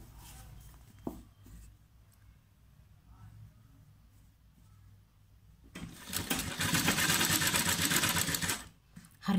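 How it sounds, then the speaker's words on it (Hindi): A sewing machine stitches a design onto trousers, starting quietly after a brief tap and then running in a fast, loud, buzzing burst for about three seconds before stopping near the end. "रख के हम इस पर सिलाई चलाएंगे।"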